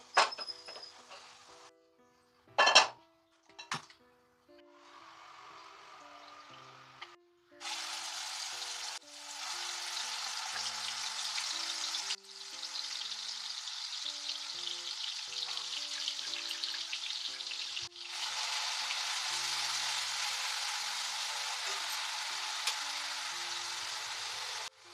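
Broiler chicken curry stirred in a pan, opening with a few sharp utensil clinks and scrapes before settling into a steady, fairly loud frying sizzle that runs in long stretches with brief pauses; no talking.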